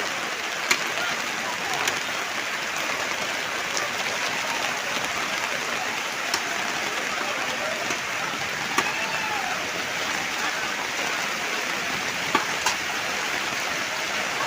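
Steady rain pours throughout on a wet day at a market, a dense continuous hiss with occasional sharper drips and patters standing out, fairly loud and unbroken with no talk.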